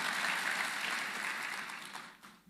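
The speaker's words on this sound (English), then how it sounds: "we should give those learners a good round of applause for their great achievement" An audience applauds learners for their exam achievement, a brief burst of steady clapping at moderate distance that thins and fades out after about two seconds.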